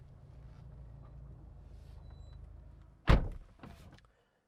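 A BMW M2's door shuts with a single solid thunk over a quiet background, followed by a fainter second knock.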